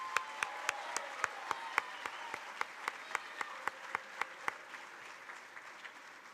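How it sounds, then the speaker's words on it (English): Sparse, evenly spaced claps from a small audience at a school board student recognition ceremony, a steady rhythm of distinct single claps that thins out and fades near the end. "Big round of applause."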